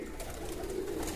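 A pigeon gives a soft, low, steady coo lasting about a second, close and alone.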